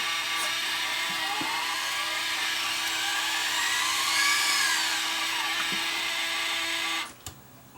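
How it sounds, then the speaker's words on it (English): A Sony DSR11 DVCAM video deck with a bad bearing, giving off a steady high-pitched whine that swells and dips in pitch, with faint clicks, then cuts off near the end. "A bearing or something's bad somewhere in there."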